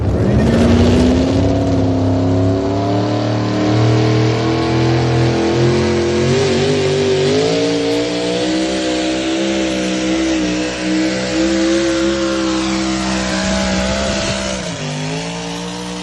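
Pulling truck at a truck pull event, its engine roaring loudly and steadily with rising and falling revs and harmonic whine, close and sustained for the whole stretch.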